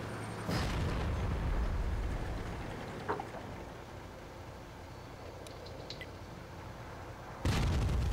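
Artillery in World of Tanks firing and exploding: a heavy boom sets off a sustained rumble, a few small pops follow, and another blast hits near the end, all without talk.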